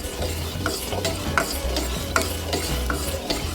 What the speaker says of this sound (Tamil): சர்க்கரை போட்டு கரைச்சிக்கலாம்.